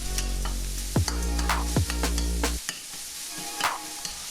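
Andouille sausage browns in a pan with a steady sizzle, broken by a few scraping stirs of a utensil against the pan.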